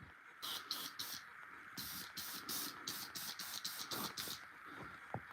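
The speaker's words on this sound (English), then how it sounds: "I think I added enough spray to see which one gets off first." Bursts of aerosol spray hiss in quick repeated pulses over a steady background whoosh, some sprays longer, others short and rapid.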